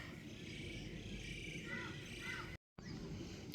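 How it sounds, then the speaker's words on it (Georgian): A hadeda ibis in Africa gives harsh, crow-like calls at a distance over steady outdoor background noise, with a brief dropout near the end. "ყველაზე ხმამაღალი ჩიტია აფრიკაში, სახელად ჰადიდა. ისე ჩხავის როგორც ყვავი."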